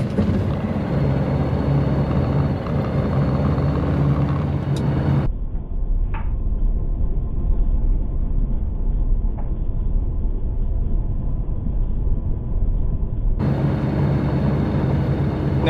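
Sling 4 light aircraft engine running after start, a loud steady drone heard from inside the cockpit throughout, with a muffled stretch in the middle.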